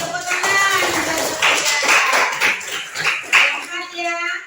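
Schoolchildren in an Indonesian civics classroom applaud in a brief, close burst of clapping mixed with lively young voices, fading out after a few seconds.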